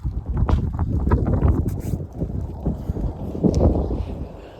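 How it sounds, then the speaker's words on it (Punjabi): Strong wind on a cold day in open country buffets the microphone in a steady rumbling roar, with gusty low-frequency thumps rising and falling throughout. "ਹਵਾ ਤੇਜ਼ ਚੱਲਦੀ ਆ"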